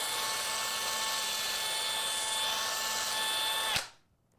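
A small power drill boring holes in dice whines at a steady high pitch for several seconds, then cuts off abruptly, leaving quiet.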